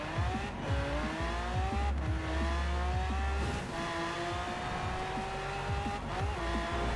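A car in the video game Forza Horizon 4 drives hard with a loud revving engine whose pitch climbs through gear shifts, accompanied by tire squeal, continuous and close with no talk.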